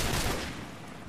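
Sustained burst of gunfire from an M21 rifle in the video game Call of Duty 4, loud and dense at the start, then thinning slightly as it carries on without a break.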